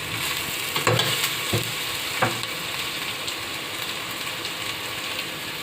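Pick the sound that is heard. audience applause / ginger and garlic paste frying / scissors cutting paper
ginger and garlic paste frying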